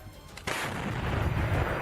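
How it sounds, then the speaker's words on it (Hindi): A Russian army artillery cannon firing shells during the war in Ukraine: a sudden loud blast after a quieter lead-in, followed by a sustained rumbling roar that carries on to the end. "इसके बाद इशारा मिलते ही तोप से हमले शुरू कर दिए गए।"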